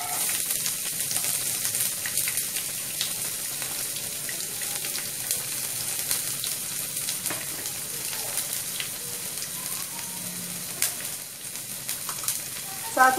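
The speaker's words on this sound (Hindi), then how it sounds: "फिर हम इसमें प्याज डाल देंगे।" Onions and broken dry red chillies fry in hot oil, a steady close hiss of sizzling that runs throughout with faint clinks and no pauses.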